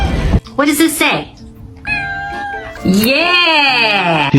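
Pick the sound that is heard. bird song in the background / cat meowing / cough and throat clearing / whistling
cat meowing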